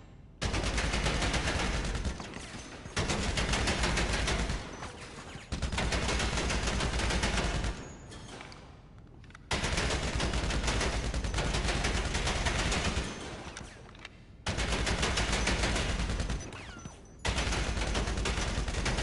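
Rapid gunfire at the bunker shooting range in GTA Online comes in long, dense volleys of shots, broken by short pauses, with no talking.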